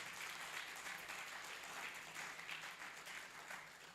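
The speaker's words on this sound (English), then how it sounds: "please give a round of applause to Pig Farmers Association of Ghana for giving us this opportunity to host" Audience applause at the Africa Pig International Congress 2024 in honour of the Pig Farmers Association of Ghana, a continuous wash of many hands clapping at moderate distance throughout.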